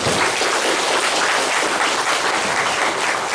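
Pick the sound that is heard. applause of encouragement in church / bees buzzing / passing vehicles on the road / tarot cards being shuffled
applause of encouragement in church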